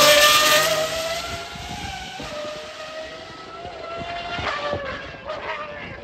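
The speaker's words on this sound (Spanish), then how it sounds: "El Huayra R, que para mí es el mejor auto que haya visto en cuanto a sonido en mi vida." A Pagani Huayra R supercar engine roars loud and close, a sustained high-revving tone whose pitch climbs and dips with throttle changes, alone without talk.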